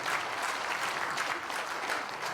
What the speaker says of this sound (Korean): 하나님께 크게 감사와 영광의 박수 크게 올려드립니다